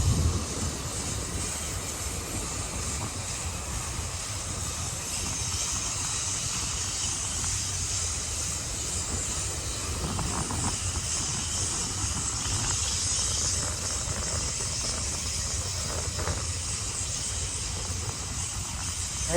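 A railroad train passes in a steady, unbroken rumble and hiss that lasts the whole stretch, with no talking.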